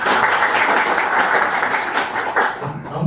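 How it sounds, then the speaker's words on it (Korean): Audience applause at a law firm's branch office opening and corporate legal seminar, a dense steady patter of many hands clapping throughout, fairly loud and close, easing briefly near the end. "좋은 말씀 해주신 그 최우재 성국장님께 다시 한번 박수 드리겠습니다"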